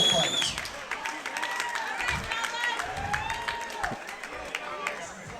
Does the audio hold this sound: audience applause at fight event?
yes